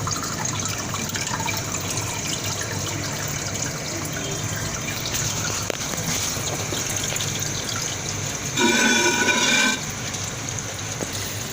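Toilet cistern refilling with water after the shutoff valve is opened, a steady loud rush and hiss of flowing water that swells briefly near the end.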